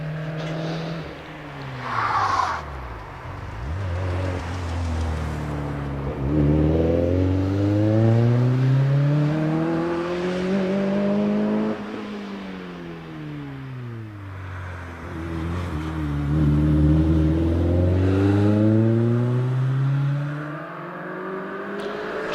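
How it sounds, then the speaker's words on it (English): A Lotus Elise races up the Prescott hillclimb course, its engine note climbing steeply through repeated gear changes, each upshift dropping the pitch before it rises again, loud and fairly close for over twenty seconds. "It's Claire Tuth in the Lotus Elise, who is on her way up the hill now."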